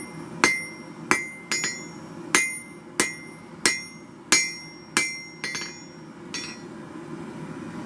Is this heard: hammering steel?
yes